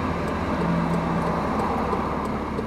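Low, steady engine rumble of a car approaching on a sharp curve at night, heard from inside another vehicle as a constant broadband drone with no clear rise or fall.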